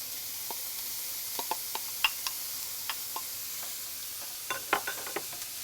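Minced onion and carrot sautéing in olive oil in a pan, a soft, quiet sizzle broken by irregular crackles and light pops, no voices.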